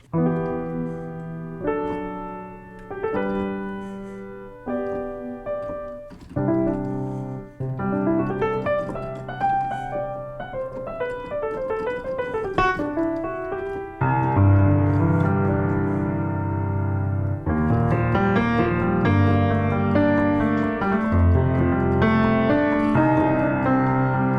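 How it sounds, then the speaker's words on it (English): A sampled 1928 Steinway grand piano plugin plays alone, with clear chords and a melodic line, sustained notes ringing into fuller, louder passages. "there's a free plugin called Soundpaint which comes with this 1928 Steinway piano"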